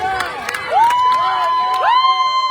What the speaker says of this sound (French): On continue à les applaudir. On les encourage.